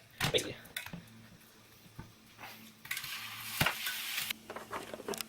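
Chicken frying in two pans gives a light sizzle mixed with clattering pans and scraping utensils, in uneven bursts at close range. A voice is heard faintly in the background.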